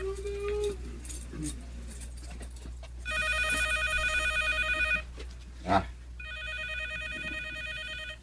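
A cellphone rings inside a pocket in a rural setting. Its electronic melody comes in two repeated bursts with a short pause between them, over a steady low hum and light background noise.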